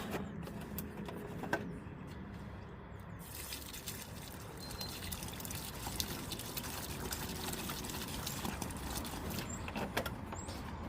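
Water is poured in for a garden railway branchline build, a soft continuous outdoor trickle and splash that runs steadily for several seconds with faint knocks and no talk.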